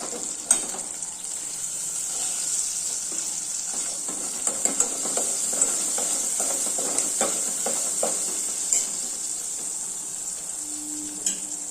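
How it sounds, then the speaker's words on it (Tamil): Steady sizzling of mustard seeds, cumin, urad dal and onions frying in hot oil for spinach sambar, with soft scraping and stirring sounds and scattered little pops throughout. "எண்ணெய் ஊற்றி கடுகு சீரகம் உளுந்த பருப்பு போட்டு வெங்காயம் போட்டிருக்கேன்"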